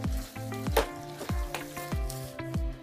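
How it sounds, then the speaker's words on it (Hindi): Gravy-style chilli chicken sizzles and spatters in a hot pan, stirred with repeated scraping strokes every half second or so, close and steady, with no talking. "तो ये हमारा ग्रेवी वाला चिकन चिल्ली तैयार है। इसे हम थोड़ा सा एक मिनट चलाएंगे।"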